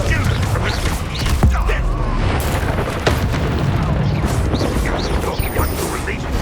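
Spell blasts from the Hogwarts Legacy video game, fire and explosive Confringo and Incendio casts landing as repeated booms and pops over dense continuous game noise, with voiced spell calls mixed in.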